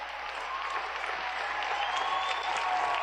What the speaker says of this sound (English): that's an echo chamber applause